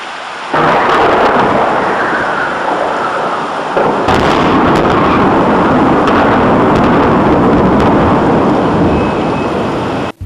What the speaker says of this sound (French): le tonnerre qu'il produit est comparable à une explosion, un coup de canon